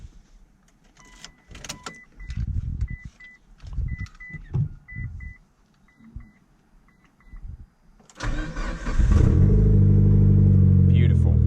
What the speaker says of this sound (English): Let's go ahead and give the Evo a good old cold start on this warm day